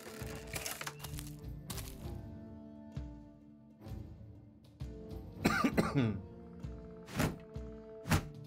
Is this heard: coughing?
yes